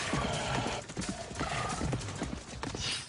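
Horse hooves clip-clop steadily and close, with a short neigh near the end, under a dense, continuous background.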